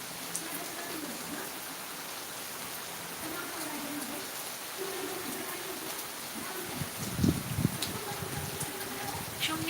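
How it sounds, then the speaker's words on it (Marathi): Steady rain falls outdoors, a constant soft hiss of drops heard throughout, with faint voices murmuring underneath and a few brief louder sounds near the end. "मस्त मस्त पाऊस पडतोय"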